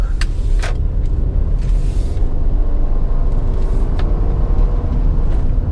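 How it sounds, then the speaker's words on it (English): A 2001 Honda Accord EX V6 drives along with a steady low engine rumble and road noise, the automatic transmission shifting up through the gears, heard from inside the cabin with no talk. "I just felt it shift into second gear, so we know we've got 1 and 2."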